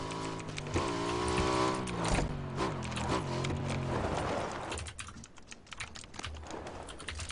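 A car engine in the video game PUBG drones up close, its pitch rising and falling as it revs, then giving way to quieter rattling and clatter.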